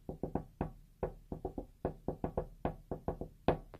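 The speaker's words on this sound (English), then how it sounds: "Whoever knocked on that door" Rapid knocking on a door comes in irregular bursts of sharp, close raps, about twenty in under four seconds, with no voices.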